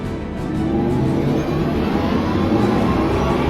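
Audi e-tron GT electric car driving, heard as a steady, fairly loud synthetic whir and hum with a broad rushing quality, continuous and without breaks for the few seconds shown.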